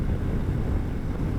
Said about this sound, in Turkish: Aşırı çok rüzgar var.